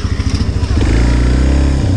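A KTM off-road motorcycle engine chugs in uneven pulses, then revs up into a loud sustained roar, heard up close.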